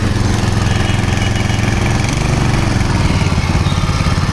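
A 7 HP petrol engine runs steadily at close range, a loud continuous chugging hum with a fast even firing rhythm and no voices over it.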